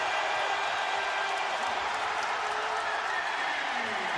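A basketball arena crowd cheers after a Tracy McGrady play, a sustained, even roar of voices and applause filling the whole moment without a break.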